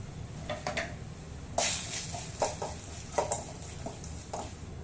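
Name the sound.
ground masala being roasted in a pan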